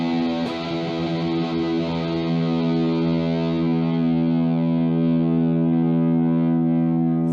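A Gibson electric guitar plays through a Positive Grid Spark practice amp, a single strummed chord ringing out dark and distorted with a chorus-like shimmer. It is loud, close and sustained, with no other sounds alongside.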